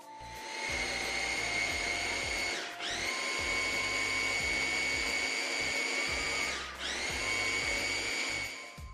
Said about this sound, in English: Blend everything finely until we achieve a creamy dressing.